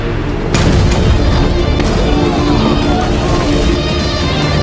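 Ship cannons firing in a naval battle scene from a TV drama, loud booming blasts over a dense, continuous rumble of battle noise, with no clear talk.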